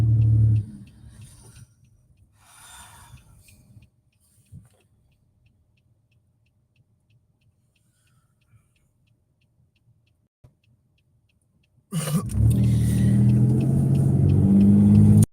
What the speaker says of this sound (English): It's a Ford Interceptor.